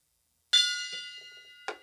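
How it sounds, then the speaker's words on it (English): A small gong is struck, ringing with a bright shimmering tone that decays over about a second, followed by a second lighter strike near the end. "We got to get a bigger gong."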